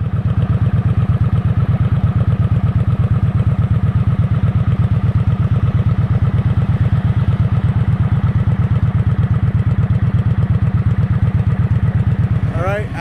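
A motorcycle engine runs loud and close after starting, a steady rapid thumping idle that holds evenly throughout with a slight rattle and a brief higher note at the very end.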